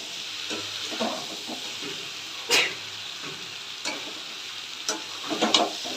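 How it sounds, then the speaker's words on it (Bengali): Potatoes and taro sauté in a pan with a little water, giving a continuous steamy sizzle with a few sharp scraping stirs of a spoon against the pan, close and alone. "আলু যেটুকুনি সিদ্ধ হতে বাকি আছে কচু যেটুকুনি সিদ্ধ হতে বাকি আছে কষতে কষতে বাকি সিদ্ধটা হয়ে যাবে"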